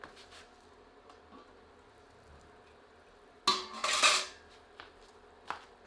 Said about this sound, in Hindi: अब प्रेशर कुकर से ढक्कन हटाते हैं।